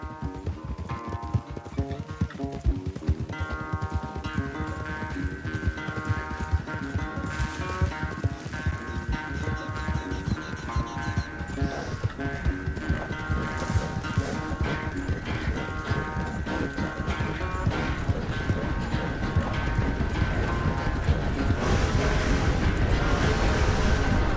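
Horse hooves gallop in a race in the video game Red Dead Redemption 2, a fast, steady clip-clop rhythm over pounding sound that holds for the whole stretch and grows slightly louder toward the end.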